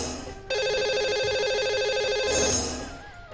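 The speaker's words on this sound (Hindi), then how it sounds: "देखते हैं और लगाते हैं अभी हम कॉल" A telephone rings with a steady electronic warble for about two seconds as a radio show host places an outgoing call to a lucky caller during a live broadcast, with no talking.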